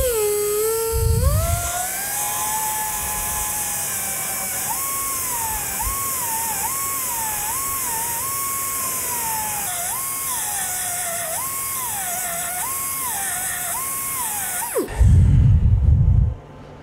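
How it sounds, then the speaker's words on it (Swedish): An angle grinder grinds spot welds off car body sheet metal on a compressor-fitted Lotus, a steady loud high whine with pitch dips as the disc bites, ending in a brief louder low rumble. "Nu ska jag slipa bort de här punktsvetsarna här."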